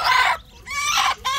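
Newly hatched ducklings peep and chirp in quick bright bursts, close by and fairly loud, with a short pause between calls.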